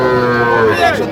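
A Sahiwal bull lows at a cattle market, one loud, close, drawn-out moo that bends downward at the end.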